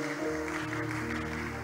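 A congregation at a church service claps as a steady, even wash of applause over sustained music.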